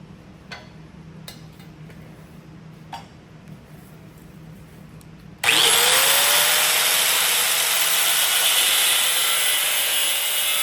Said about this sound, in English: Mark and cut the outside tines off of each fork.